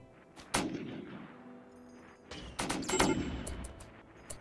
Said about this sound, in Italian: Chi è che sta sparando